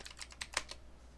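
A computer keyboard clicks under quick typing, about six close, light keystrokes in a rapid burst, quiet and alone.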